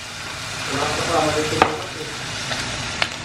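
Tomatoes hit hot oil in a pan after ginger, bringing a steady, close sizzle with stirring and a couple of sharp utensil knocks.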